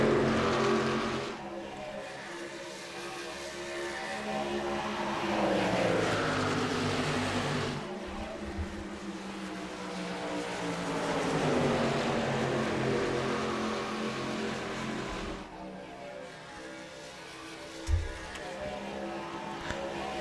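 Race cars roar around Pocono Raceway, with engines rising and falling in pitch as cars surge past in waves. The sound is moderately loud and continuous, with a few sharp bumps and shifts in intensity.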